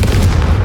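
Confringo spell explosion in a video game, a single loud, deep boom heard close, short and heavy with a rumbling low end.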